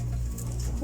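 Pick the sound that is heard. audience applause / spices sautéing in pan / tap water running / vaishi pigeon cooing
vaishi pigeon cooing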